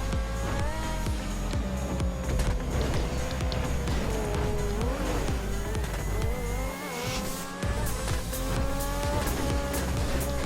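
Car driving and sliding in GTA, a steady loud engine drone with shifting revs and tire squeals over game music, briefly dipping before resuming.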